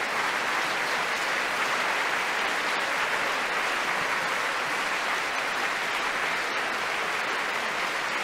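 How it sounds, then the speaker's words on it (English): Thunderous opera audience applause fills the Royal Opera House, Covent Garden, a dense, steady roar of clapping that holds at full strength throughout as the cast takes a curtain call. "with the applause still thundering away here at Covent Garden"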